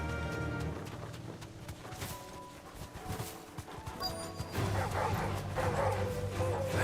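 Dogs bark and yip in Final Fantasy XVI: several short, close barks come over game music and ambient background sound, with a soft clopping rhythm beneath.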